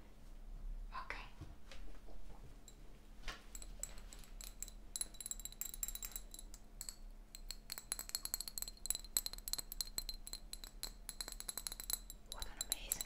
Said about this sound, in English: Glass bottles with some liquid in.